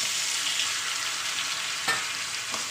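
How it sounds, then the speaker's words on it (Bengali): Tilapia fish with green banana sizzles steadily in a hot pan as it is stirred, a dense, even frying hiss with a couple of brief scraping knocks from the spoon, no talk. "আবার আমি ভালোভাবে কষিয়ে নেবো এটাকে।"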